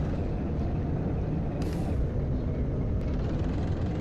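Coach in Euro Coach Simulator on the road from London toward Manchester: a loud, constant low engine rumble with a sharp hiss of air brakes releasing midway and a shorter hiss soon after.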